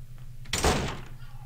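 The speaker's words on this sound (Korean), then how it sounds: "가지고 있는 열쇠로 문을 열 수 있을 것 같다" A door being unlocked with a key and swung open in the horror game 이슬비가 내리는 숲: one muffled thunk and creak at mid-clip over a low steady hum.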